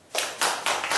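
Church congregation clapping together in unison, four loud, rhythmic claps in quick succession, close and clear without talk.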